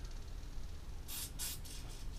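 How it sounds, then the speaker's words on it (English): Compressed air blasts through a small lawnmower carburettor fitted with a fine metal gauze, arriving as about four short, loud hissing bursts in quick succession over a low background rumble. "put that on the end of the air compressor as well, give it a good blow out of the air compressor"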